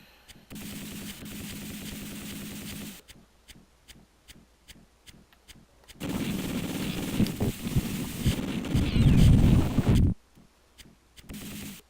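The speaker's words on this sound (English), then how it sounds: "the autocannon sound effect" Autocannon fire in the mech combat game Battletech, with a long loud sustained burst, then a run of sharp evenly spaced single shots, then another heavy rumbling burst before a few more sparse shots, all close and without talk.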